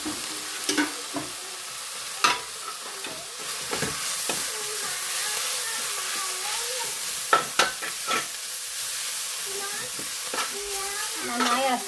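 Chaya greens and coconut are stirred in a pan with soft, irregular scrapes and light taps over a faint, steady sizzle, close and fairly quiet.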